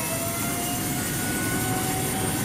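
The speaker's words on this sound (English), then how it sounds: "Let's just switch on the first pair of engines." Methane-fuelled spaceplane engines powering up for takeoff in Kerbal Space Program 2, giving a loud, steady broadband roar with a faint whine, unbroken and alone.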